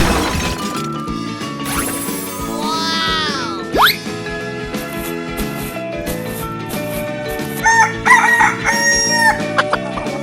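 A rooster crows in a 3D animal video game: a couple of sweeping, strained calls rise and fall over busy, looping game music, with a few bright clucks and effects toward the end.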